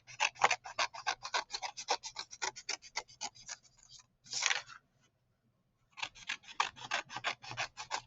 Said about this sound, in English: we're going to cut up that line, follow it over, cut almost to the crease, but stop